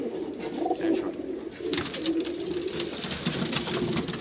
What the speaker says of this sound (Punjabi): ਟੈਡੀ ਕਬੂਤਰ ਹੈ